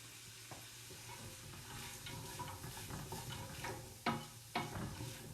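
Celery goes into a hot pan with translucent onions for split pea soup, giving a steady quiet sizzle with stirring scrapes and a couple of sharper clicks near the end.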